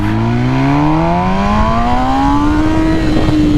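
A 2021 MV Agusta Rush motorcycle with an ECU flash tune accelerates hard, its loud close engine note climbing steadily in pitch through the gear, a continuous rising roar with a brief shift near the end.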